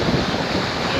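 Ocean surf rushing in and flushing through rocky tide pools on a beach in Puerto Rico, a loud continuous roar of churning water with wind buffeting the microphone, close and filling the whole moment.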